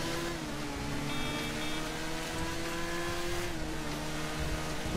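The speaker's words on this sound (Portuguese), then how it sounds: "ela tem um ronco um pouco misturado das outras motos" A motorcycle engine roars in a bikers DLC for a video game, a continuous steady drone with a slight wavering pitch and no talking over it.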